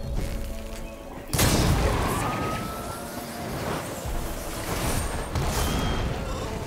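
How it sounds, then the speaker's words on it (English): Explosions from the video game Horizon Forbidden West: a sudden loud blast hits early, followed by crashing, rumbling debris and further bursts that fade and flare over several seconds. "explosions. Good."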